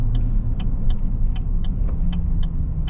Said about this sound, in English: we have this new truck, so I decided this morning I was going to take a drive